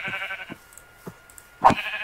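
Game sheep in modded Minecraft give a few short, bright bleats, fairly close and clear, spaced out over soft background game music.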